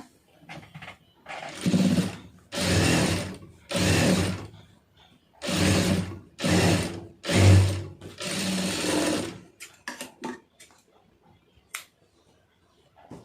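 A sewing machine stitches a V-neck collar strip in several loud, steady runs of rapid mechanical whirring, each lasting about a second, separated by short pauses, then a few quick ticks and clicks as it stops.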